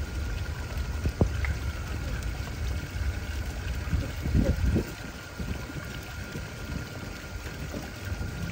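Water splashes and trickles onto a Proteus multiparameter sensor being wetted for cleaning, a close, uneven pouring sound with a couple of brief knocks.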